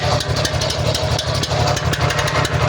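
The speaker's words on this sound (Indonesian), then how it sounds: "Oke, kita gas mesin. Gas mesin, mesin nyala kapten." A boat's motor runs steadily on a swamp trip, a loud, even idle with a low pulsing throb throughout and no talk over it.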